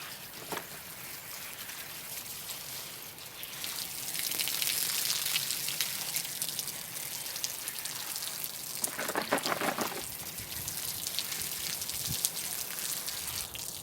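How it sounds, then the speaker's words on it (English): A garden hose sprays water onto freshly harvested potatoes on a UK allotment, a steady hissing patter that gets louder and rougher as the stream shifts. No one speaks. "We'll give them a blast with hose pipe and have a look"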